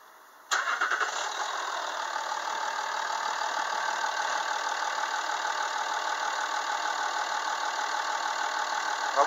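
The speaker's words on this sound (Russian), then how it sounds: "Работа двигателя на холостом ходу." A 2008 Land Rover Discovery 3 2.7-litre diesel V6 engine starts with a sudden burst, then settles into a steady, even idle rumble that continues without change. Close and fairly loud.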